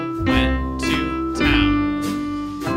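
Yankee Doodle played on piano over a backing track, steady melody notes with accompaniment moving at a brisk tempo, clear and close.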